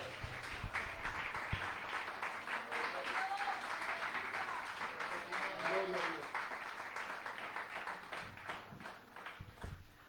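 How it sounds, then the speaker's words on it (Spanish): Applause from a church congregation during a Spanish-language sermon, a steady wash of clapping that holds for about ten seconds, fairly distant and moderately loud, with voices mixed in and a brief lull near the end. "¿Alguno puede aplaudir la presencia de Dios?"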